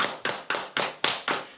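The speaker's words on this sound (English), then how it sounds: "Can we get a round of applause for Celeste?" Six crisp, evenly spaced handclaps, a steady close rhythm of single sharp smacks with no voices, offered as a round of applause.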